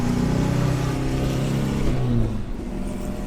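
Volkswagen Karmann Ghia Type 34 engine with a non-original exhaust, a loud continuous rumbling drone heard from inside the moving car, rising slightly before easing off.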